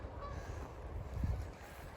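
Geese honking faintly at a distance as they fly in over the Perthshire hills at sunset, a few calls rising over a steady outdoor background hum.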